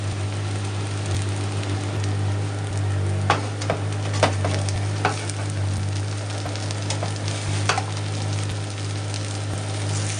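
A dosa sizzles and fries steadily in a hot pan, a continuous crackling hiss with scattered sharper pops over a low constant hum, and no voices.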